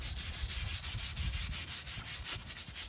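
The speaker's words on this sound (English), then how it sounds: "we're gonna take this wire brush that I got, and we just gonna rub it, just get as much of this brake dust and road debris off as we can" A wire brush scrubs brake dust and road grime off a car's brake caliper in quick, rhythmic back-and-forth strokes. The scraping rasp is close and steady with no voices.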